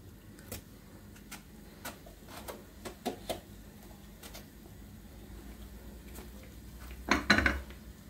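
An eggplant is sliced in half with a knife on a board in a home kitchen. Faint, scattered knife taps come first, then a louder burst of crunchy cutting near the end, close by and with no talk.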